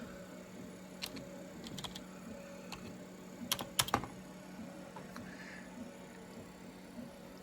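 Keystrokes on a wireless computer keyboard used to log in to a NeXT Cube computer, scattered soft clicks with a short cluster of sharper taps midway, close by over a steady low machine hum, no talk.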